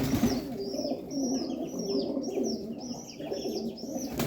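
Pigeons coo inside a loft, with soft repeated throaty coos layered beneath brighter chirping calls, several birds close by and continuous for a few seconds.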